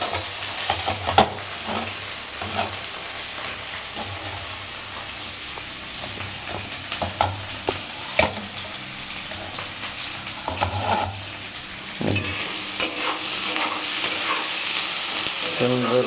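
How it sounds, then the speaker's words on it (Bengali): Dried fish fries in hot oil, a close, continuous sizzle broken by frequent scraping stirs and clattering pokes of a utensil, with no one talking. "এই তেলটুকু দিয়ে এখন শুটকি মাছটা পুরো ভেজে নেব সুন্দর করে"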